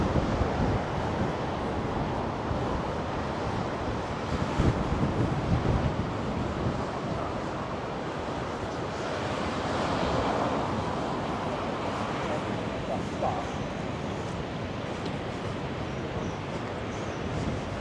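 Strong wind buffets the microphone in a steady roar along Blackpool promenade, mixed with the wash of a rough sea breaking nearby and sand blowing about. The noise stays loud and continuous throughout, with only mild swells in intensity.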